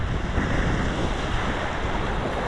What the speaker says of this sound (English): it's the sound of the surf.